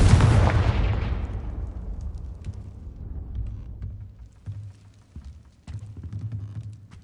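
A Confringo spell in Hogwarts Legacy detonates with a loud, close boom that decays into a long rumbling tail, followed by scattered smaller thumps and crackles.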